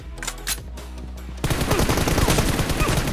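Gunfire in a mobile shooter video game: a few scattered single shots, then a sustained rapid automatic burst that runs loud and continuous to the end.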